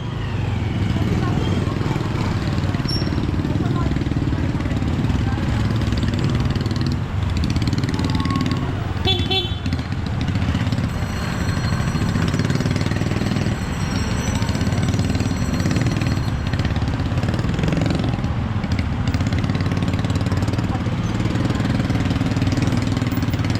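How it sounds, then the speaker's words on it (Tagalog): Street traffic with cars and motorcycles running at a steady, dense rumble, engines idling and moving nearby, with a few short horn-like tones and people talking throughout. "Traffic."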